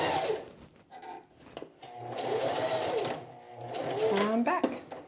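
Sewing machine stitching through layers of a quilted jacket, a close continuous mechanical whirr that speeds and slows in bursts, with a voice talking over it.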